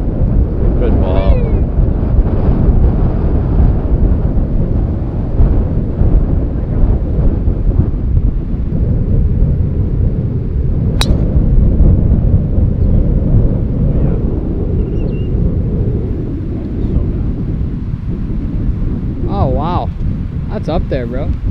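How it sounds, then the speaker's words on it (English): Strong gusting wind buffets the microphone on an open golf course in roughly 40 mph gusts, a loud continuous roar that stays dense throughout, with brief speech surfacing under it. "Wind's a little cross, a little at the back."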